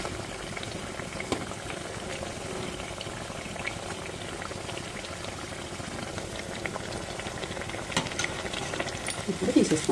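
Millet and ragi appalu fry in hot oil, giving a dense, continuous bubbling crackle that is steady and close throughout, with a few louder pops near the end.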